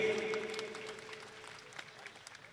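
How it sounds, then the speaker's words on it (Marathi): A crowd at an outdoor wrestling ground claps at a distance, a fairly faint, steady patter of applause that thins out over a couple of seconds, with a faint steady tone underneath. "जरा टाळ्या करा त्याच्यासाठी."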